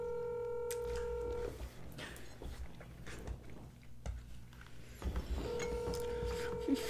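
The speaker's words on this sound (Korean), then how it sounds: "노미한테 다미한테 전화해봐" Telephone keypad tones sound as a mother at home calls a number to set up voicemail: steady beeps at the start, then household rustling and clatter, then another run of beeps near the end, all fairly faint.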